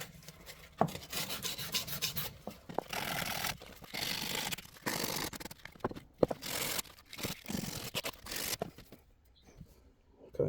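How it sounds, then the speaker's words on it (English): Sandpaper rubbing along the filed, chamfered edges of a stainless steel boat railing bracket, in repeated close scratchy strokes broken by short pauses. "Now I'm just giving the edges a bit of a sand, just to sand where I filed the chamfer."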